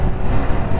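A motorbike on a group ride sweeps past close by, a brief, loud engine rush with a steady roar.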